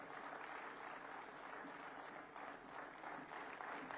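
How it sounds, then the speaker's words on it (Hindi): Sustained applause from a large crowd at a Haryana Legislative Assembly event, dense steady clapping that holds at an even level from start to finish. "और तालियां आप सबकी तरफ से।"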